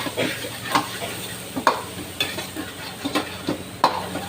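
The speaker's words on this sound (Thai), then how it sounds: "ผัดให้หอม หอมดีแล้ว" Chili and garlic stir-frying in hot oil in a pan, a close steady sizzle punctuated by repeated metallic scrapes and taps of the spatula at an uneven rhythm, without speech.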